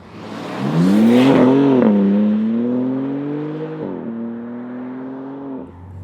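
A BMW M3 Competition engine revs hard as it accelerates to overtake, pitch climbing steadily through a gear, then a quick shift and another rising pull, loud and close with no talk.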